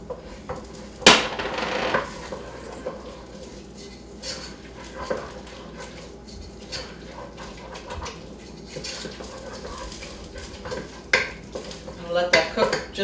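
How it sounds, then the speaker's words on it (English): A metal utensil stirring a quarter cup of all-purpose flour into a pan on the stove, with repeated scraping and clinking against the pan, an occasional sharp knock, and a soft sizzle underneath, close and fairly loud. "to this I'm going to stir in about a 1/4 cup of all-purpose flour."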